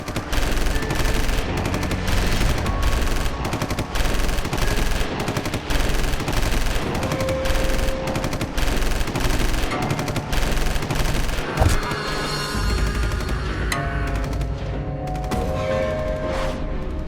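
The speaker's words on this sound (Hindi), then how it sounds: "बहुत बरसाली गोलियां।" Dense, continuous gunfire, with rapid automatic bursts and overlapping shots, heard as a sound effect in a Hindi audio drama about an army fight with terrorists. It stays loud and relentless throughout.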